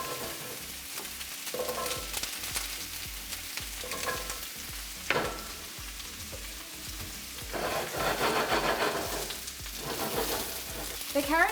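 Carrots charring in a hot pan, a steady close sizzle and crackle with occasional stirring scrapes, growing louder and busier toward the end, with no talk.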